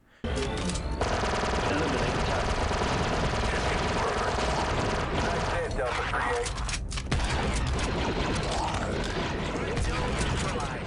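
Submachine gun fire in the Star Wars Republic Commando video game: a loud, dense, continuous rattle of rapid shots lasting several seconds, layered with other busy game sounds.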